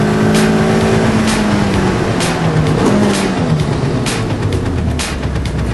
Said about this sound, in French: Je stabilise, je commence à accélérer, sans bouger le volant.